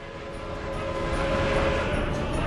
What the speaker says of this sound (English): there's one train taking one wagon now.